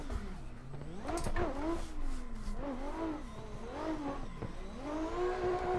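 Simulated race car engine revving hard in Assetto Corsa on the Pikes Peak hill climb, pitch sweeping up and down through repeated throttle blips and gear changes, loud and continuous for several seconds.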